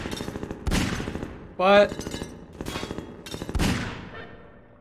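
Rapid bursts of gunfire from Half-Life 2, loud and dense with repeated shots, mixed with game sounds and a brief spoken exclamation.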